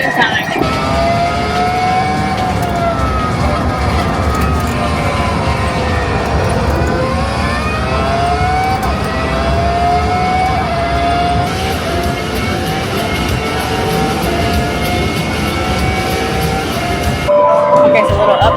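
Indoor go-karts racing at Andretti Indoor Kart Racing in Orlando, a loud continuous engine drone with shifting pitch sweeps from the karts, heard up close from a driver's seat.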